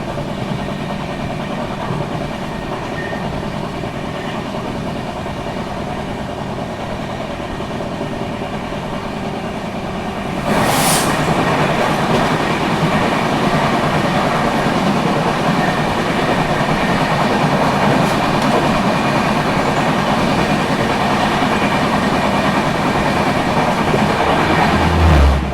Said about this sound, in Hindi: झारखंड स्वर्ण जयंती एक्सप्रेस।